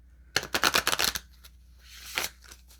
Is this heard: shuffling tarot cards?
yes